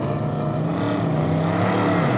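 A field of GT and prototype race cars, led by a Ligier JSP3, rolls away at the start at Zandvoort circuit, a steady droning mass of engines with slowly shifting pitch that builds gently throughout.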